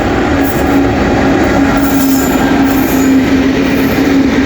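A train bound for Bangalore passes Devarpali station, a loud, continuous rumble of rolling wagons with squealing wheels and faint clickety-clack, steady and close throughout, no speech.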